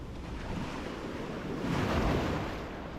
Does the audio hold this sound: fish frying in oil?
no